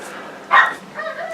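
A young puppy shut outside the studio gives one sharp bark followed by soft whining yelps, fairly close and heard alone.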